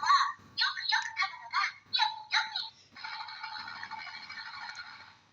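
DX Kiramai Changer transforming toy from Mashin Sentai Kiramager playing an electronic sound effect after being pressed and spun: a burst of chirpy, choppy synthesized tones followed by a buzzing tail, small and tinny with no talking.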